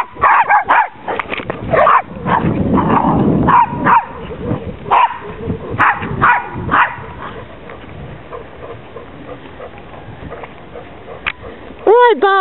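Retriever and spaniel dogs bark and yip in short bursts close by, mixed with whimpers, while people talk over and between the barks.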